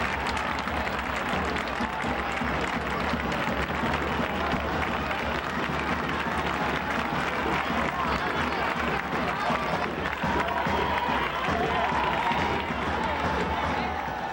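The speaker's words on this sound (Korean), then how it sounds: "관중들은 죽은 수소와 투사 모두에게 환호를 보냈다" Spectators at a bullfight roar and applaud in a dense, steady wall of crowd noise that holds loud throughout without a break, with many voices and clapping blended together.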